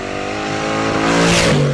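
A car engine revved hard in first gear under load, climbing steadily in pitch toward valve float, loud and close with a rising whine near the end.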